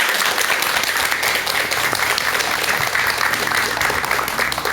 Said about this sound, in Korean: 박사님께 큰 박수 한번 부탁드립니다.